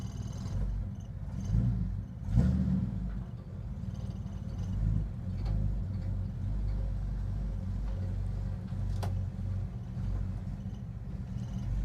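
Dodge Charger crew cab engine running at low idle with a rumbling, uneven drone and a couple of revving swells early on, heard from nearby.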